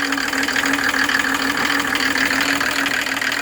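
A Mercedes OM603 turbo diesel engine driving a water pump runs loudly and close up, a steady droning hum with a gritty mechanical rattle and a faint whine above it.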